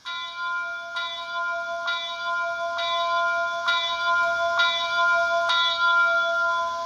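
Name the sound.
bell of a Rapido Royal Hudson HO scale model steam locomotive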